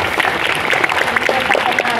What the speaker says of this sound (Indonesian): Tepuk tangan dong untuk KKN.